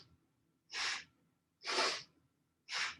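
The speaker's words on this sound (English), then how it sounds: "Almost forceful inhalations and exhalations." Loud, forceful yoga breaths, three strong rushing bursts of air spaced about a second apart with near-silence between them, close and clear with no talk.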